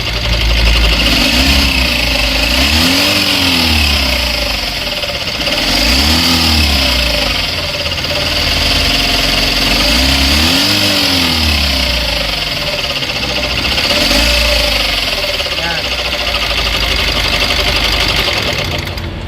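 A Mitsubishi L300 Euro 4 engine runs loud and steady with an abnormal, irregular knocking or rattling clatter, its rumble swelling in slow repeating waves throughout, close up with no talking.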